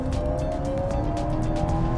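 A Kia EV6 GT electric car accelerates hard with a steady electric whine and road and tire roar, loud and close for the whole stretch, with no talk.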